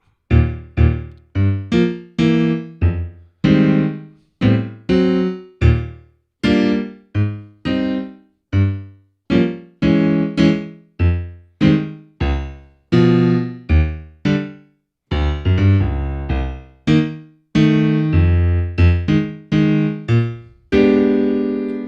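Solo jazz piano plays detached, rhythmic chords in a steady bouncing pattern, each one struck and released, with busy left-hand bass notes jumping between them.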